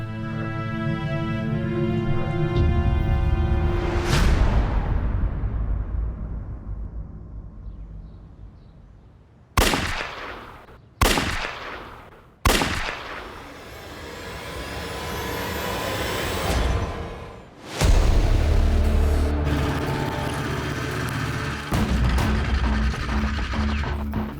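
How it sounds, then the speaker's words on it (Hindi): Three sharp, loud bangs go off close together, like gunshots, cutting through a heavy rumbling background of engine and traffic noise. "पड़ोसी ने 3 गन शॉट्स की आवाज सुनी है"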